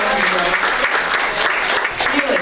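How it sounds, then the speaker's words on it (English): Sustained applause from a school board meeting crowd, steady and fairly loud throughout with dense clapping filling the whole stretch. "How about an extra loud applause for Sam?"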